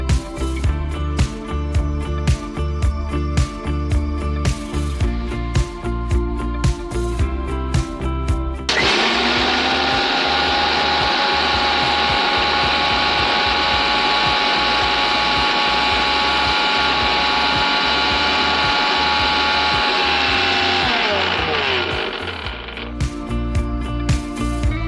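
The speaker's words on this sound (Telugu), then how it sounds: "ముందుగా మనము మినపప్పు మిక్సీ పట్టేసుకుందాం." A kitchen mixer grinder processes husked urad dal: a rhythmic mechanical clatter gives way to a loud, sustained high whine of the motor for about thirteen seconds, then drops back to clattering.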